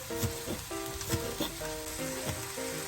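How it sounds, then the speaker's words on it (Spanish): Onion sizzling and frying in a pan while being stirred for a pork loin fillet dish in onion sauce, a steady close crackle with soft scraping stirs, under gentle background music. "Seguimos acá revolviendo nuestra cebolla"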